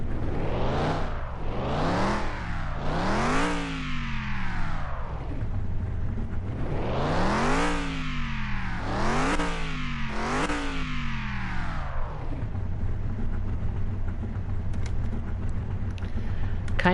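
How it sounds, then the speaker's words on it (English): Hot rod engine in Car Mechanic Simulator 21 revving hard in repeated rising sweeps, several quick blips in a row then a pause and another burst, loud and close over a steady idle rumble. "Kind of wish that this DLC had a little bit of a different engine sound"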